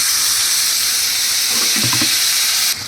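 Pointed gourd (potol) frying in a pan gives a loud, continuous sizzle and hiss, with a short stirring scrape near the end before it quietens.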